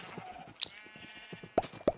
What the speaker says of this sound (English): oh, look at the glow sheep.